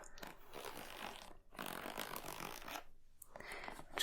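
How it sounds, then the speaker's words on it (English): A pencil case zipper dragged along its track in long, close scratchy runs, broken by a couple of brief pauses. "So this pencil case also has a zip"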